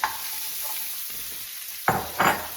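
Vegetables sauté in oil mixed with a little bacon grease, a soft steady sizzle broken by two louder bursts of stirring or tossing near the end.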